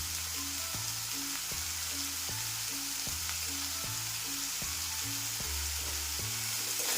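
Soybean chunks fry steadily in hot oil with salt and turmeric, a dense continuous sizzle with faint stirring, accompanied by repeating background music and no talk.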